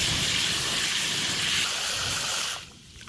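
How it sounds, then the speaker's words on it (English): Water gushes steadily into a tub of vinegar prepared as a soaking bath for rusty cast iron, a loud continuous pour that cuts off abruptly near the end. "So we added water so the vinegar doesn't just like eat away at the material."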